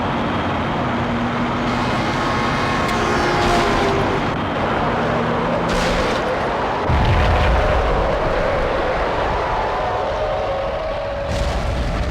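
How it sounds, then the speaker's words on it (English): A bomb blast inside a slum building in the video game Max Payne: heavy booming explosions and rumbling bursts, loud and close, followed by a low crashing roar, with no talking. "Another bomb exploded inside the closest slum building."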